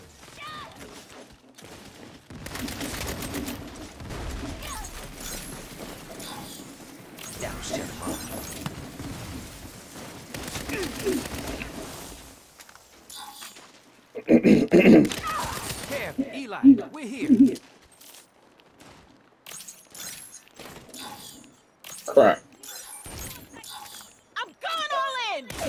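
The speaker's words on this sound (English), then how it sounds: "Who's shooting?" Bursts of gunfire and shattering impacts during a Saints Row gang betrayal firefight, dense chaotic volleys early, then scattered sharp shots and crashes, with voices shouting throughout.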